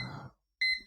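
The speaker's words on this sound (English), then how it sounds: "there's the Pomodoro timer" A Pomodoro timer alarm goes off with sharp, loud electronic beeps after a short silence, following a brief low rustle.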